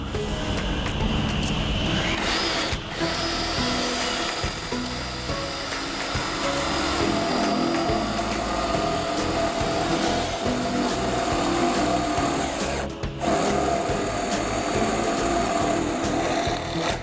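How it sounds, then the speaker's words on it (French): Drilling the bung hole in a 1000-litre wooden barrel, a steady loud power-tool whine grinding through wood, continuous with a couple of brief dips, close up. "Perçage du trou de bande."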